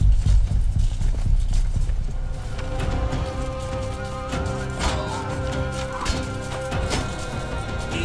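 Rhythmic clip-clop of horse hooves at a steady trot, with cart rattle and game sound effects from the video game Robin Hood: Sherwood Builders, continuous and fairly loud.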